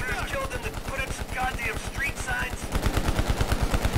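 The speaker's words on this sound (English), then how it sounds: "I'm shooting." Rapid automatic gunfire in a Cold War campaign video game, a steady run of loud, evenly spaced shots that grows denser toward the end, with a voice speaking over it.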